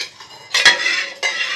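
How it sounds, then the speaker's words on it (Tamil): Utensil scraping and clinking against a pan as a falooda mixture is stirred over a low flame, a few short close metallic strokes with brief pauses between them. "லோ ஃப்ளேமில் வச்சு கிண்டிக்கிட்டே இருக்கணும்"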